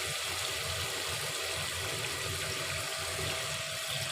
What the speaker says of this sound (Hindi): तो अब मैं इसमें ना पानी डाल दूँगी।